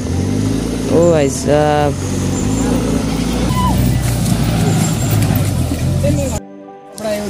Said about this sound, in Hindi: ब्लैक थार मेरी बेस कार आ रही है थार महिंद्रा थार